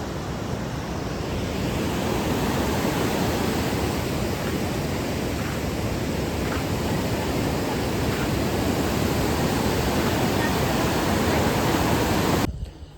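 A river runs full and forceful near Mangalore, producing a loud, unbroken roaring wash that holds steady for the whole stretch before cutting off abruptly, with no talk over it.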